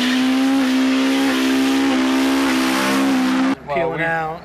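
Tires on a Honda Civic EK squeal loudly and steadily for about three and a half seconds, a sustained high-pitched screech, then cut off abruptly into a brief wavering engine note.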